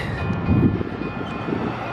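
A Union Pacific train passing, a short low rumble with a faint high whine, fairly loud and steady.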